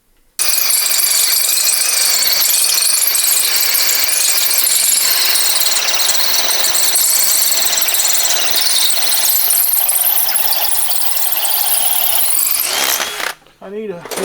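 A long drill bit grinds into a bicycle frame tube, producing a loud, continuous high-pitched squeal that holds steady for about twelve seconds, then stops abruptly and gives way to a few brief clanks.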